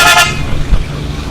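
Heavy street traffic rumbles beside a Sunday car bazaar in Lahore, with a short loud car horn toot at the start followed by low passing vehicle noise.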